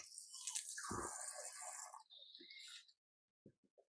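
Water sloshing and gulped from a Gatorade bottle, a few soft wet squishy swallows close up, then quiet with faint drips at the end.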